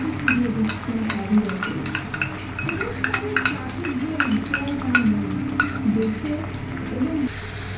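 Onion paste for a chicken curry fries in a pan with a steady sizzle, while a utensil stirs and scrapes with frequent clinks against the metal, close up throughout.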